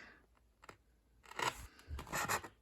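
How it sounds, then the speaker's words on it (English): A stainless steel Bear and Son balisong knife slices through cardboard in a few close, scratchy tearing strokes, the loudest two cuts coming in the second half after a quieter start. "what I have here is some cardboard and we're gonna do a cut test"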